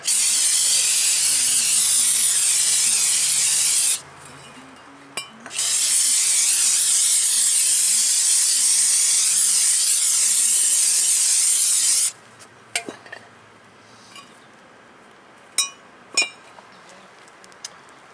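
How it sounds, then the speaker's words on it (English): Aerosol brake cleaner sprayed onto the front brake rotors of a 2017 Honda Civic, two long, loud hissing bursts with a short pause between, followed by quiet clinks and rubbing sounds. "spray them down initially"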